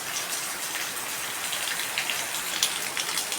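Heavy monsoon rain pours down steadily over a flooded courtyard in rural Konkan, a dense, even hiss of drops with scattered brighter splashes, close and continuous with no voices.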